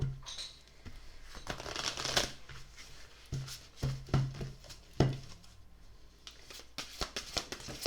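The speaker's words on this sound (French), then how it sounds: "Donc je vais les remélanger." Oracle cards being shuffled by hand, a series of close, crisp riffling and tapping bursts with short pauses between them.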